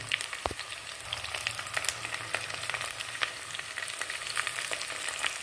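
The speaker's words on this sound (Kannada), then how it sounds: "ಹಸಿ ಇರಬಾರ್ದು ಹಾಗಲಕಾಯಿ ಚೆನ್ನಾಗಿ ಫ್ರೈ ಆಗಬೇಕು" Bitter gourd pieces fry in hot oil, giving a steady close sizzle and crackle with scattered sharp pops and occasional stirring clicks throughout, no voices.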